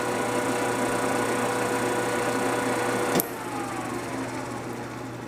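A Deckel FP2 milling machine spindle runs at 200 RPM with a steady mechanical whir and hum. A sharp click sounds partway through, after which the running tone drops slightly and continues.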